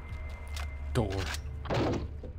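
A heavy door in the co-op shooter Return to Castle Wolfenstein gives a few dull thuds that will not open it, heard among players talking over game noise.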